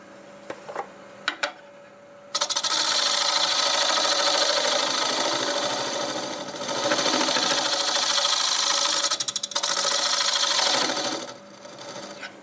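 A scraper cuts against black walnut spinning on a wood lathe, a loud, continuous rasping scrape that swells and dips over several seconds after a few quiet taps, then eases off at the end.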